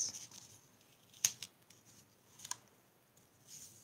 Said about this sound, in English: I'm going to have to cut some sheets here